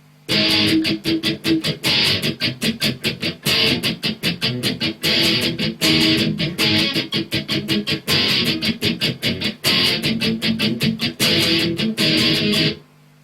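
An electric guitar plays a fast, choppy muted strumming pattern, percussive strokes in a steady driving rhythm, loud and close, with short regular breaks.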